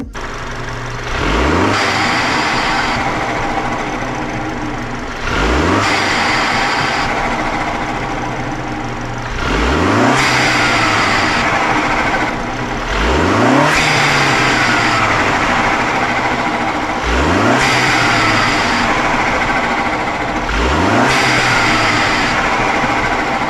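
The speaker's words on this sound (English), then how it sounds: "you could clearly hear a blow-off valve now" A turbocharged Mini Cooper F56 JCW engine revs hard six times in a steady rhythm, each rev ending in a sharp hissing whoosh of a blow-off valve as the revs drop.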